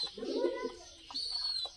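A pigeon sitting on its eggs gives a short, soft coo up close, followed by a few faint chirps in a quiet space.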